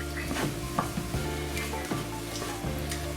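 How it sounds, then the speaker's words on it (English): Finely chopped garlic frying in a pan, a dense steady sizzle with occasional stirring scrapes and light knocks against the pan, close up and continuous, no voices. "Then I'm going to add my garlic, and don't forget to follow the ingredient in the description. And this is a finely chopped garlic"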